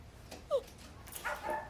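A dog gives a short yip, then a couple of quick barks and whines, close and fairly loud, in a scene at a dog adoption place.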